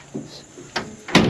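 A car door with a worn, loose upper hinge pin is worked back and forth, giving three short clunks and rattles, the last loudest, with no talk.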